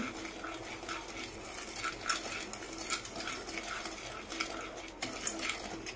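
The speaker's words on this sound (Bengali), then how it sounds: "ভালো করে লাল লাল করে এটাকে ভেজে নিচ্ছি" Semolina dry-frying in a pan while being stirred, irregular scraping and light clinks of a utensil against metal with a faint sizzle beneath, close and fairly quiet, no voices.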